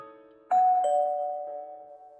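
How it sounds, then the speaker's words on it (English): A doorbell rings out a clear two-tone ding-dong after a short quiet lead-in, the bright chime notes ringing on and slowly fading over about two seconds. "We ring the doorbell"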